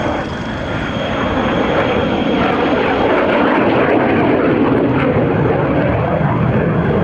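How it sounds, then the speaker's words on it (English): Tornado military jet aircraft roaring overhead, a steady loud broadband engine rumble that swells slightly and holds for several seconds with no talk. "we don't have a Typhoon on tonight, but we've got a Tonka"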